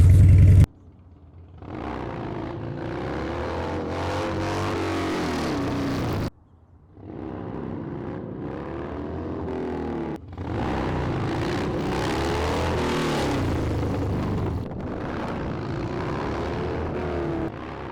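A Harley-Davidson Dyna motorcycle engine roars in long sustained revs during wheelie attempts, loud and close, cutting off abruptly twice before climbing again in steady droning bursts.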